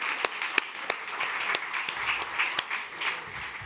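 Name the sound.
audience applause welcoming Justin Mohamed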